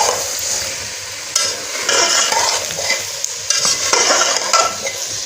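Cauliflower dish being stirred in a pan after lemon juice is squeezed in, a steady close scraping and stirring with a soft sizzle of frying underneath, continuous with uneven strokes and no talk.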